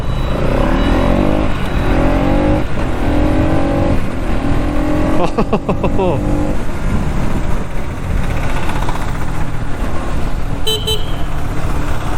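A Bajaj Pulsar NS200 motorcycle engine revs and accelerates nearby, pitch climbing and falling through gear changes, with a brief horn-like tone toward the end.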